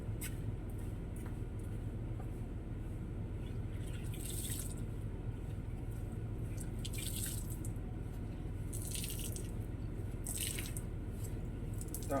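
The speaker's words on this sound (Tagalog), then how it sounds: "Ang tubig natapon." Water spills and drips, with soft, scattered drips and splashes at low volume over a faint steady background, and no voices.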